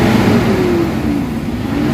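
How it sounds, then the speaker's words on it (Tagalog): A Toyota Hilux engine with low power, throttle delay and a non-working turbo runs close and loud, a steady droning idle with a faint whining tone and no clear rise in revs. "So pakinggan nyo yung RPM saka yung tawag niyan, yung andar ng engine."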